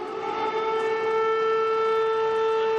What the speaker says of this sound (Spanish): las sirenas antiaéreas que alertan de los ataques rusos